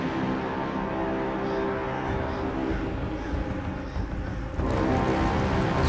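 Blood rain pours down in Black Myth: Wukong as a steady, dense wash of falling-rain noise, swelling slightly near the end, with faint rumbling underneath.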